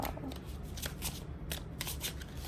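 A deck of playing cards is shuffled by hand, giving repeated quick riffling bursts at a steady rhythm, close and fairly quiet, with no talking over it.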